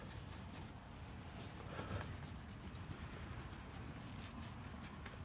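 Steady, vigorous scrubbing and rubbing on a surface to remove stubborn water spots, a continuous close abrasive friction noise with no talking.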